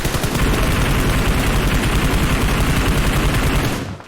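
Dense, loud automatic gunfire in the PUBG video game on the Miramar map, rapid bursts running continuously before cutting off abruptly.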